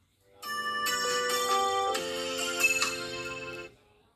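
A Poco M3 Pro 5G phone plays its "smoke ring" instrumental notification tune, a short bright chiming melody of layered synth notes lasting about three seconds, then fading out.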